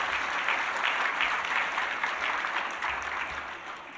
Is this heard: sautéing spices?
no